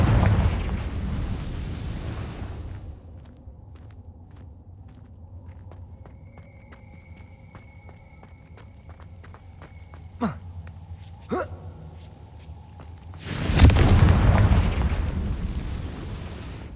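Confringo spell blasts in the video game Hogwarts Legacy: two sharp cracking impacts a second apart, followed by a louder, broader booming burst, over a quiet ambient game backdrop.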